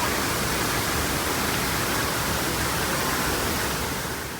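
Spring water flows steadily with a dense, even hiss and splash, close and loud, fading slightly at the very end.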